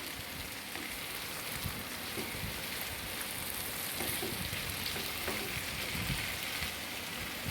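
A pot of Gobindobhog rice khichuri with salt added is stirred, giving a steady soft sizzle and scraping hiss that carries on evenly at moderate volume.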